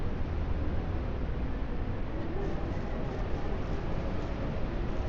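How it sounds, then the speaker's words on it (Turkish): A steady, loud roar of storm wind in the video game Southwest Ranch Simulator blows continuously without pause, broad and hissing. "Dehşet fırtına var."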